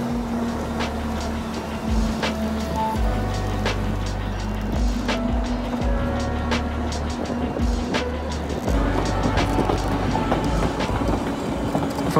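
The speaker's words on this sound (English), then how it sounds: "The Mountain Railway runs a number of services each day." Isle of Man Snaefell Mountain Railway train running, heard as a steady loud rumble of the small carriage with a constant motor hum, clicks and wheel noise throughout.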